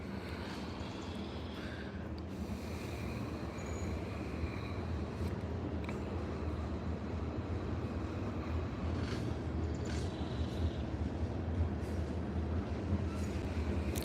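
A slow freight train of mixed loaded cars and empties creeps past a porch in Athens, Tennessee, giving off a faint, steady rumble and rolling noise with no distinct horn.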